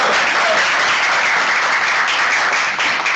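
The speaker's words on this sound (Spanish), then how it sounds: "Aquí, aplausos y todo." Steady, dense audience applause filling the whole stretch, loud and even with no pauses or voices rising above it, like a live crowd clapping at a talk about quantum computing.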